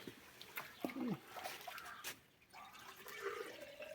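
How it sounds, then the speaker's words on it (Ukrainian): Water running into a small glass jar while it is filled, a brief splashing pour with faint speech and handling noises around it. "Набираємо трошки водички."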